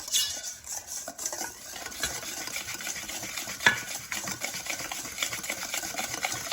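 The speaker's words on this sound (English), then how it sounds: "I'm aerating with my whisk, and I'm making sure that all of those particles are all broken up." Whisking flour and dry cake ingredients in a bowl gives a rapid, continuous rattling scrape of wire against the bowl, close and fairly loud with uneven strokes.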